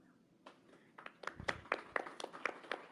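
Scattered clapping from a small group in a television commercial, a run of sharp, fairly quick claps that start faint and grow louder and denser, heard at a moderate distance with no talking over them.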